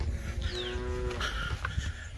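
A cow in a Samoan rural yard gives a low moo over a rumbling outdoor background, fairly close and brief.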